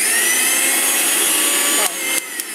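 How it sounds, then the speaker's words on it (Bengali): A Dessini 850-watt 5-in-1 mixer grinder blender runs at full speed with a loud, steady whining motor roar, then its pitch drops and it winds down with a couple of clicks near the end. "আপনারা ব্লেন্ডারটা ইউজ করতে পারবেন আমি একটু চালিয়ে দেখাই"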